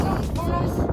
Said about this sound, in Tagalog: Nice ang weather. Mahangin, pero hindi malamig.